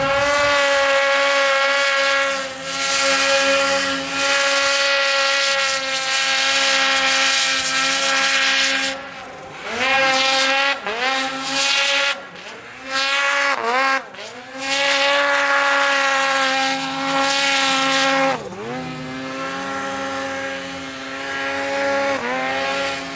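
A 155 go-kart engine fitted with a Sidekick muffler runs loud and close, holding a buzzing drone, then revving up and down in several surges before settling back to a steady idle-like hum.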